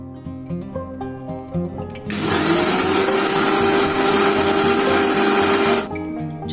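A kitchen mixer grinder whirs loudly for about four seconds, blending sponge cake batter with sugar, a steady high motor roar that starts and stops abruptly, with no talk.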